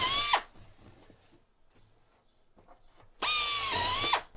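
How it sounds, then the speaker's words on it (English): A power drill bores holes in airplane wing parts: a loud, close whine for about half a second, a quiet gap with faint handling noise, then a second burst of about a second. "You can drill them off your template."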